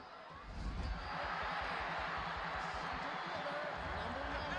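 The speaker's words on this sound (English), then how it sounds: "And there's some very excited and jubilant fans here. This sellout crowd here at Founders Field." An excited, jubilant sellout crowd at Founders Field during a Cheese League baseball game, a sustained broad roar of cheering that swells in after a moment and holds steady.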